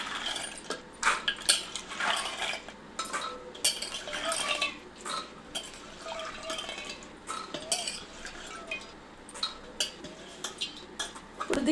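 Washed chickpeas being put into a pot, a continuous run of small clinks, knocks and wet rattles against the metal, moderately close and uneven in rhythm.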